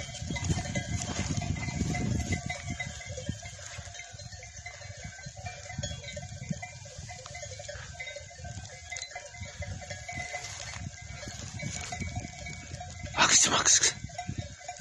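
A flock of sheep grazes outdoors in the rain. Faint bleats and a clanking bell sound over a low rumble of rain and movement, with a louder burst near the end. A person talks intermittently.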